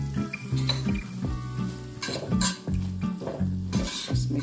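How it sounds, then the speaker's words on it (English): A spoon stirs jerk seasoning and dry thyme in a pan, scraping and clinking rhythmically against the metal with light sizzling beneath, loud and close. "Just mix everything together."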